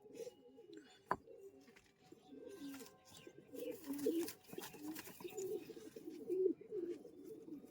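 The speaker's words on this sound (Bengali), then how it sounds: "এগুলো গিরিবাজ পায়রা" Giribaz pigeons coo softly in repeated low, throaty bursts, close by, with a sharp click early on and faint background noise.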